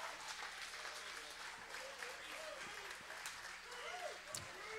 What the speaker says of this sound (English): As Coach Leach is here in Zeppos to a standing ovation.